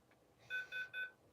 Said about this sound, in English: There's the alarm. Alarm of the Noble Pro.